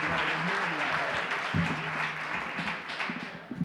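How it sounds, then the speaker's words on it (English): A banquet audience applauds a couple honored at a charity event, continuous dense clapping filling the room, tapering slightly near the end. "Please give them a round of applause."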